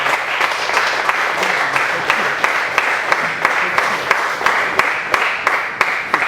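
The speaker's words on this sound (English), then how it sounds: "Ladies and gentlemen, please give a loud round of applause to Thilak" A loud round of applause from a trekking club audience welcoming the guest Thilak, with sustained dense clapping and a few sharper, louder claps standing out at regular intervals.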